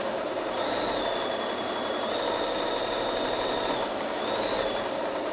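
Sewing machine running steadily during free motion quilting, a faint even motor whir with fast stitching rhythm and a thin whine drifting in and out.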